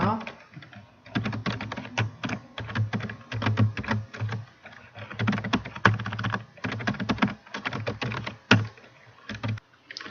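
Rapid keyboard typing as data is entered into an Excel spreadsheet, a dense run of close clicks and key thumps in bursts that continue steadily throughout, with faint voice-like sound beneath.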